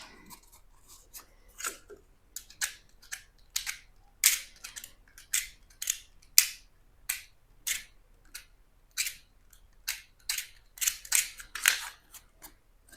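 Pieces of drywall sheetrock are snapped and crumbled off their paper backing while patching a large hole beside a door, a string of crisp irregular cracks and crunches, close and fairly quiet with no talking.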